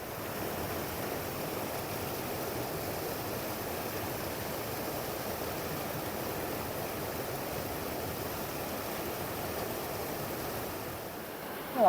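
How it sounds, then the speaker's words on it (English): Waterfall on a mountain beck in the Lake District fells near Wast Water, a steady, full rushing roar of falling water heard close and alone, with no break from start to finish. "Well, that's another great waterfall."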